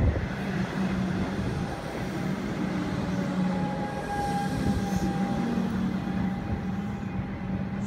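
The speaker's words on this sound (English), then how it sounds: "Arriving into platform 1." A metro train rolls into a station platform in Parkdale, a steady loud rumble of wheels and carriages with a faint high whine running throughout, no voices.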